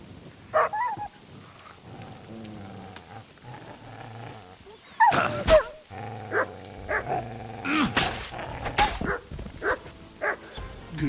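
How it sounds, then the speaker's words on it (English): An in-game dog in Kingdom Come: Deliverance II barks and growls in several loud, close bursts after a quieter opening, with a low rumbling background between the barks. "Good dog"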